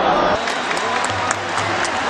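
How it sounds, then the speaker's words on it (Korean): Red Devils football supporters applaud their players after a World Cup match, a dense wash of clapping from a large crowd with faint voices mixed in. "최선을 다한 선수들에게 붉은 악마들은 박수를 보냅니다"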